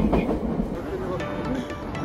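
Tokyo subway train rumbling at busy Shinjuku Station, a steady low roar with faint rhythmic clatter and occasional high squeal-like tones throughout.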